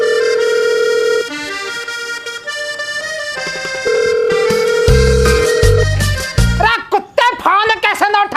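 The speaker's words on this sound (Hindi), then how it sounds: "हाँ बाप, लो घंटी जा रही है।" A loud electronic ringtone melody plays in sustained tones, turning into quicker chiming notes toward the end.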